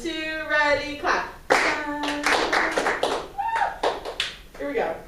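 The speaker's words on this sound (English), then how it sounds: "2, ready, clap." Hands clapping in brief bursts from a group on a counted cue, close and clear, alternating with spoken voices.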